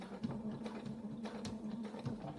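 A sewing machine stitches slowly along a seam on a work jacket, running at an even mechanical rhythm with a steady hum and light repeated clicks, close and fairly quiet with no talking.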